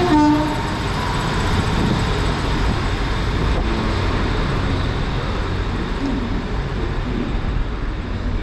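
Great Western Railway unit 15219 on the service to Okehampton rumbles at Exeter St Davids station, a steady close, loud low engine drone with a brief horn-like tone at the start and station ambience, no speech.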